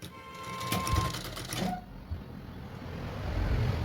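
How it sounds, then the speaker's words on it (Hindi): A sewing machine stitches a blouse, a quiet close whirring run of rapid needle clatter that slows and softens partway through, with faint room noise underneath. "बस अब लेंगे और धीरे धीरे इसकी फिनिशिंग के साथ सिलाई करेंगे।"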